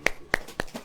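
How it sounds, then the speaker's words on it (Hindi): A man gives four sharp, close hand claps to demonstrate a clapping technique during a sermon, evenly spaced in quick succession with no talk over them. "ऐसे करें, ताली ऐसे बजती है।"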